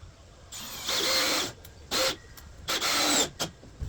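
A power drill drives screws into a wooden workbench in bursts of high whirring, one long run followed by shorter spurts with brief pauses between them, close and loud.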